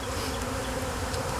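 Honey bees buzz inside a hive, a dense, continuous droning hum with no breaks, close and moderately loud, with no voices.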